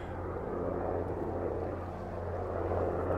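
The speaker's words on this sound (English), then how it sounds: "that helicopter is not coming for me," A steady low drone of a helicopter passing overhead, continuous and fairly distant, with no voices.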